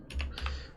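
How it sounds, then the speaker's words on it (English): Two quick clicks on a computer keyboard, close and crisp, a brief double tap with nothing else heard. "type in if and then do a double tap on the keyboard"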